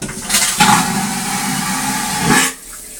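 Toilet flushing up close, a loud rushing gush of water that swells and holds for about two seconds, then drops off abruptly into quieter refill noise.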